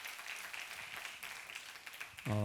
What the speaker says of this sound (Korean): 우리 다시 한번 하나님께 영광의 박수 올려드리겠습니다